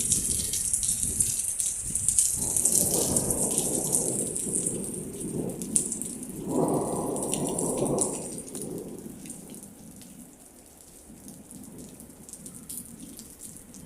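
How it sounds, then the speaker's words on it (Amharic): Steady rain falls with a rolling rumble of thunder building and swelling twice, near and fairly loud, then easing to softer rainfall toward the end. "በቃ ሀገራችን ዝናብ ተጀመረ ማለት ነው።"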